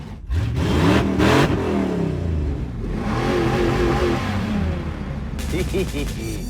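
Engine of a pink Cadillac in a three-way drag race through a city, revving and accelerating with a rising, rough roar and gear changes, loud and close, with a voice talking over parts of it.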